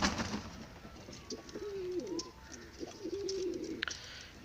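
A pigeon cooing nearby, a few soft low rolling coos rising and falling over quiet room noise.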